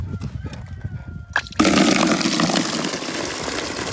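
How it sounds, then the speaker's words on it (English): Water gushes into a container for a horse to drink, starting abruptly after a quiet moment with faint knocks and then holding as a steady, loud filling rush. "Hold on, let it fill up."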